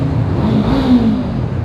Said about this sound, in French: le bruit du moteur, ah j'adore